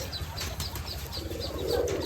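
Racing pigeons with leg tags coo in low, rhythmic murmurs close by, with a brief soft flutter of wings near the end and no voices.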